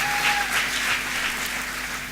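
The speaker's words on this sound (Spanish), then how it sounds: "Dale un aplauso a Joana" A church congregation at a Pentecost service applauds together, a dense and steady clapping throughout with no pause, fairly loud and close.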